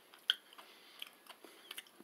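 Crunchy chocolate almond brownie brittle is bitten with one sharp close crack, then chewed in a string of quiet, brittle crunches, with no speech.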